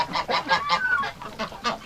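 Geese in a backyard coop honk repeatedly in a quick, steady series of nasal calls, close by and fairly loud, with no talking over them.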